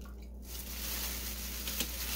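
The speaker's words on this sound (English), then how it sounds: "I just twist it, and I squeeze as much liquid as I can out of there" Soaked elderberries wrung out by hand, wet squishing and faint dripping of liquid, close and quiet over a steady low hum, with a brief sharper squeeze near the end.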